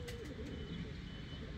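Tumbler pigeons coo softly over a steady low background rumble in a short, continuous stretch.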